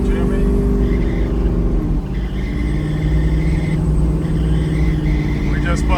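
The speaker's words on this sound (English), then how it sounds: "Good sound and exhaust. Just a cool truck. We're driving our 75 GMC Jimmy." A 1975 GMC Jimmy with Holley Terminator X Max fuel and transmission management, driving: a steady, loud engine and exhaust drone with low rumble throughout, and a voice heard at times over it.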